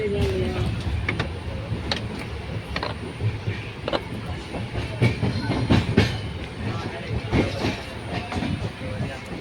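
A moving passenger train rumbles along with rhythmic clicking of wheels over rail joints and occasional clanks, heard from inside a carriage as a steady, loud rolling noise.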